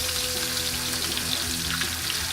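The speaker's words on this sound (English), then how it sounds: "And we're going to start off with another batch of meat, just like that. Throw it right into the pan." Beef steak strips for fajitas sizzling in a hot pan, a dense close crackle with a low rumbling undertone, steady and loud across the short stretch, no voices.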